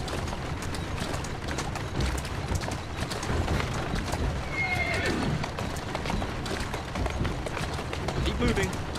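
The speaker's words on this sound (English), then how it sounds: "Who's a good horse? You are." A horse in Victorian London whinnies and its hooves clip-clop along the street as a rider urges it on in Assassin's Creed Syndicate, close and lively, with a voice speaking over the gallop.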